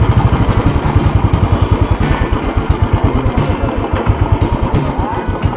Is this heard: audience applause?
no